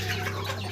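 A hen clucking on a home poultry farm, a laying hen restless around the nest, in a short, fairly loud burst over a steady low hum.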